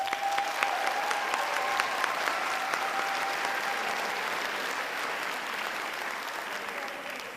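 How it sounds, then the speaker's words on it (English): Audience applause at a university nursing commencement ceremony, a broad, sustained round of clapping filling a large hall, steady at first and gradually easing, with no talk over it. "Round of applause"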